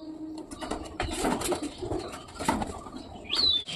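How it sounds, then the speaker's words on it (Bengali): Pigeons coo softly and flap their wings in short bursts, a small group of five close by, with scattered rustles and light bird sounds between the quiet cooing. "টোটাল গাইস পাঁচটা পায়রা কোথা থেকে চলে এসছে"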